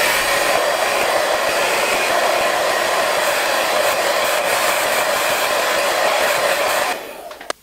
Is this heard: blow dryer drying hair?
yes